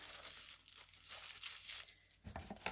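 Paper wrapping on a subscription box package being torn and crinkled open, close rustling and tearing in uneven bursts, with a sharper crinkle near the end.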